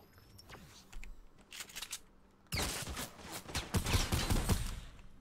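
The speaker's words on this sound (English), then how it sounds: "There's a guy right there shooting at me." Rapid bursts of gunfire in a Fortnite match, with a few scattered shots early on, then a loud, dense fusillade of quick overlapping rounds close by for the second half.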